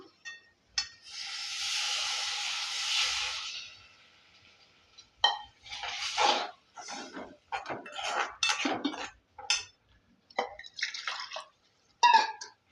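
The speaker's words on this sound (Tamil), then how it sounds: "இப்போ தண்ணி சேர்த்துக்கலாம்" Water pours with a hissy rush into a pan of egg gravy, followed by scraping and clinking of a utensil against cookware in short bursts.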